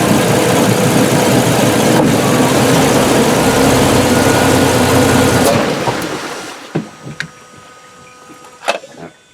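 A Mercruiser Alpha 1 stern drive boat engine runs in gear with a loud, steady broadband roar for about six seconds, then drops away, leaving scattered faint clicks and knocks.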